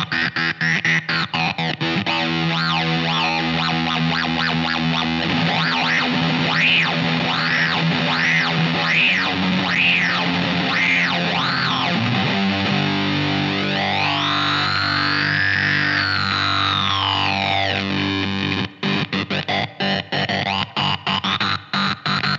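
An electric guitar plays through a gated, distorted effects unit. Swooping, wah-like filtered tones and repeating bends give way to a long sweeping warble, then the sound chops off in abrupt gated bursts near the end.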